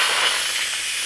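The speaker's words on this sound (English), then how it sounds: "Now what we need to do is blow off the steam from here" Steam blows off a pot of hot Irish stew as a continuous loud, close hiss, steady throughout with no talk.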